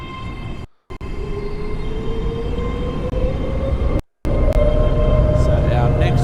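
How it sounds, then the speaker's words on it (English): Train rumbling steadily past in Train Sim World with a rising tone, a heavy continuous roar with two brief dropouts, close and loud. "So that was the train we were waiting for."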